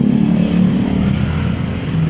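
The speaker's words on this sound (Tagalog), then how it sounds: "The traffic." Road traffic of motorcycles and cars near the Polo River in Valenzuela, Philippines, produces a loud, close, continuous engine hum and rumble over a couple of seconds.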